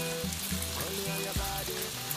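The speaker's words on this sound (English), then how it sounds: "I'm just going to fry the rest of them" Samosas deep frying in hot oil, a steady dense sizzle with bubbling crackle throughout, close and even in loudness.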